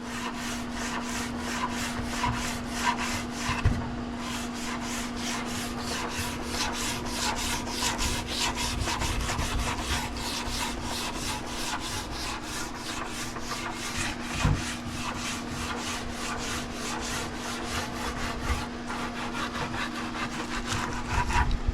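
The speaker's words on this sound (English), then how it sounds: "we're gonna use this bronze wool and bronze all that old varnish out of the wood" Bronze wool scrubs hard along the grain, stripping old varnish from a wooden fighting chair being refinished; a continuous, close rasping rub with rhythmic strokes and a few sharper scrapes.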